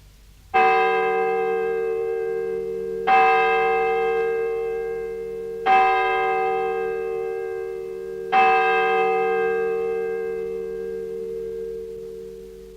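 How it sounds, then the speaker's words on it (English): A church bell tolls four times at a slow, even pace, each deep strike ringing out with a long, shimmering decay into the next. "Take these church bells, for example."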